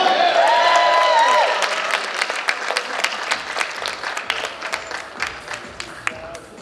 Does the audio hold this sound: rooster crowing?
no